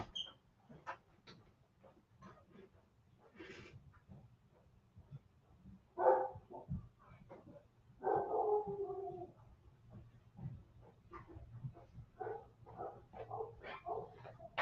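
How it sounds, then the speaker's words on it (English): A pet dog barks and howls in another room of a house, several separate loud calls standing out around the middle of the stretch over a quiet indoor background. "Now my dog's decided to bark"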